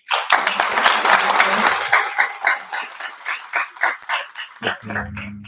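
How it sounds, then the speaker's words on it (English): An audience applauds a guest speaker, Ustadh Mohammed Isaaq, at a talk, with dense clapping for about two seconds that thins into scattered, uneven claps before fading. "give Ustadh Mohammed Isaaq another round of applause"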